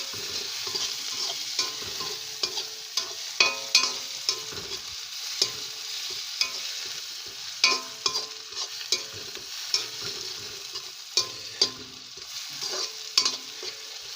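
Chicken liver seasoned with turmeric fries in a pan with a steady sizzle, while a spoon scrapes and stirs it again and again in sharp, irregular clinks.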